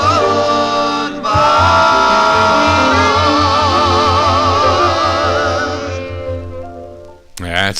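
A 1955 doo-wop record playing from vinyl, with a lead voice and backing harmonies over a steady beat, the final sung phrase swelling and fading toward the end.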